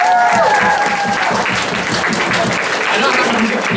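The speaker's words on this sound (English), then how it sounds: "Give it a round of applause." Audience applause at a 2013 anime convention costume contest, a dense sustained wash of clapping from a large crowd, loud and steady throughout with voices mixed in.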